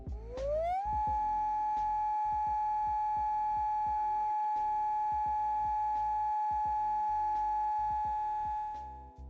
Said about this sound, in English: the alert tone, which sounds like this,